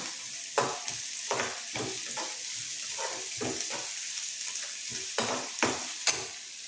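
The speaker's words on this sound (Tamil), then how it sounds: "கொஞ்ச நேரம் வதங்கட்டும். ஒரு 2 நிமிஷம் வதங்கினா போதும்." Ingredients for rava idli are sautéed in a pan, with an irregular series of clattering spatula strokes against the metal over a soft continuous sizzle, close up and without speech.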